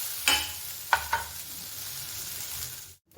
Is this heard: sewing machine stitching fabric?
no